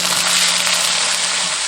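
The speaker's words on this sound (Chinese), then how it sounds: "炒香后下入海鲜干后" Dried seafood hitting hot oil with scallion, ginger and garlic in a wok gives a loud, steady sizzle that runs without a break and with no talking.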